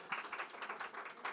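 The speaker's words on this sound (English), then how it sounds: "A round of applause for our three panelists." Brief, faint burst of audience applause for three panelists at the close of a panel discussion on food producers and climate, a dense patter of many hands clapping together.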